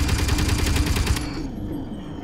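Weapons fire in the video game Space Engineers: a loud, rapid burst of repeated shots in a steady rhythm that cuts off abruptly, leaving a fading echo and low hum.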